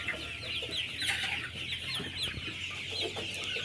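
Hybrid chickens on a poultry farm cluck and murmur in a busy flock, overlapping soft calls close by over steady barn background noise.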